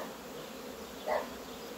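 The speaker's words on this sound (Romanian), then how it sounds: "Iată, e un zumzet nebunesc aici." A honey bee colony on a hive frame, a dense continuous hum of many bees, quiet and steady with one slightly louder buzz passing close, no talking.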